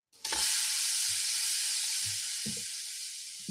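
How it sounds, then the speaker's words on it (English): Brisket sizzling on a barbecue grill: a loud, steady hiss that starts abruptly and holds, with a few faint knocks underneath. "It's a long sizzle."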